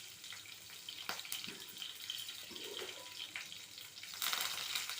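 Cumin, curry leaves and green chillies frying in a pan, a soft hissing sizzle with a few sharp clicks and stirring scrapes, fairly quiet and close, no talking.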